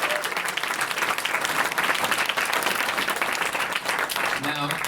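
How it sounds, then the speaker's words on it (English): An audience at a Star Wars publishing panel at New York Comic Con 2023 applauds a new author, with thick, continuous clapping and some cheering that fills the hall, and a voice briefly heard beneath it. "So a round of applause, please, for our newest author."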